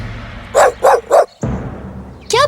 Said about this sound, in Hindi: तब रूसन एक झाड़ी पर भौंकने लगा